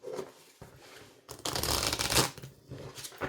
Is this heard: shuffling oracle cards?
yes